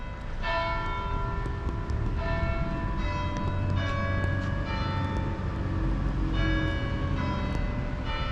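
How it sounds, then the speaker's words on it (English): Church bells peal in a steady sequence of bright, ringing strokes with long overlapping decay, loud and continuous outdoors over a low background rumble, with no voices. "Bells are ringing."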